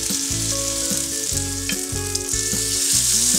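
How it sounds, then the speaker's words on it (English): Close, crackling sizzle of paneer frying in hot ghee on a tawa, steady and bright, with a rhythmic low thumping beneath it and no voices. "You're getting this nice sizzle sound."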